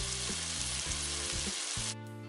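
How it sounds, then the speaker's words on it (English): Vegetables, rice and tofu mixed together in a frying pan for a vegan dish, heard as a continuous loud sizzle with a few soft stirring scrapes, the hiss dropping away near the end. "I'm just gonna combine everything into this pan and mix it up"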